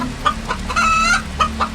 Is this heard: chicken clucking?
yes